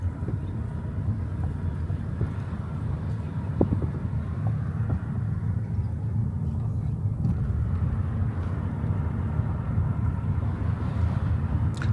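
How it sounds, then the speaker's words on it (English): Car driving around a small town in Mississippi, a steady low rumble from the road inside the cabin that keeps up the whole time, with faint knocks and wind noise. "Just driving around Metcalfe"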